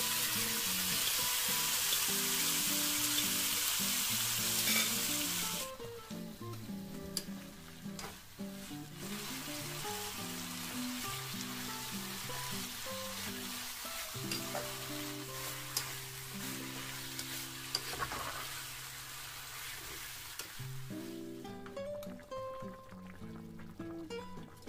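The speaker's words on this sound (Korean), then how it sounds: "그래서 저는 파기름을 넣습니다" Scallion oil sizzling and crackling in a hot pan while frying, a soft, steady hiss with scattered pops and faint stirring, quiet and close with no talking.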